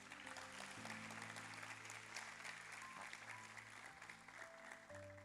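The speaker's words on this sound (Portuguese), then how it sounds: "Vamos aplaudir o Senhor por isso?" Congregation at a youth church service applauding steadily, a dense, continuous clatter of many hands throughout with a sustained musical tone underneath.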